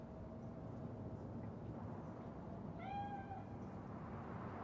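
A single short cat meow in the game Cyberpunk 2077 sounds faintly over a quiet low ambient hum, with no talk.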